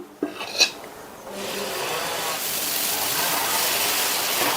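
Dosa batter sizzles as it is spread thin on a hot griddle, making a steady hiss with light scraping, close and continuous.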